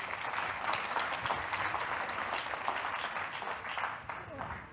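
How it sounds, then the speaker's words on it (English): An audience at an evening dialogue event applauds, a sustained round of dense clapping that fills the room, with a voice faintly audible beneath. "Round of applause for them too."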